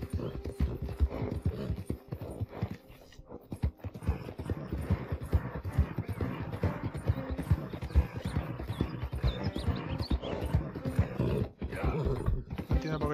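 A horse gallops in Red Dead Redemption 2, its hooves drumming in a fast, continuous rhythm over game ambience while someone talks over it.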